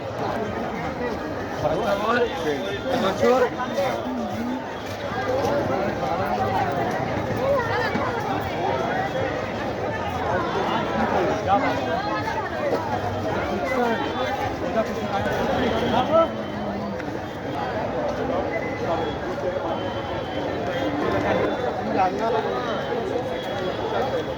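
Crowd chatter at a Christmas market in Kolkata, a dense, continuous babble of many voices and footsteps around the listener, steady and fairly loud for the whole stretch.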